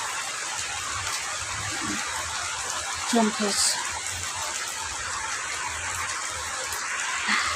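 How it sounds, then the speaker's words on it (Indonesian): Steady rain falls throughout, a constant hiss of drops, with a person speaking intermittently over it. "Masih hujan"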